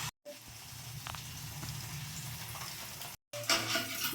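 Soft, steady sizzle of half an egg frying in a teaspoon of oil in a pan, faint and continuous with brief gaps of silence, for chicken noodles.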